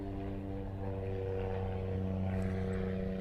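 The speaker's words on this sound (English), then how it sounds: "this is Hawaiian Flight 10 heading off to LA" A Hawaiian Airlines airliner, Flight 10, departs for LA from a Hawaii airport, its steady engine drone holding loud and continuous throughout with no talk.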